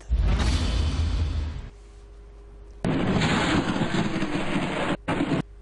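Firecrackers and sparklers go off in loud, crackling bursts: a dense volley, a short lull, then another sustained fizzing, popping stretch with sharp breaks near the end.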